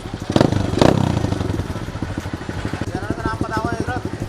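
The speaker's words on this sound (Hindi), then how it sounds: "सो भाई अपनी बाइक हो गई है स्टार्ट" A freshly repaired dirt bike engine idles and revs up close with a fast, rough putter, with a couple of sharp throttle blips early on and clattering mechanical noise throughout.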